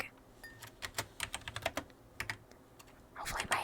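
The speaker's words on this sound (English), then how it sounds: "Hopefully my typing isn't going to be too loud." Keys clack on a computer keyboard in an irregular run of sharp taps, close and fairly quiet, pausing briefly before a denser flurry at the end; no one speaks.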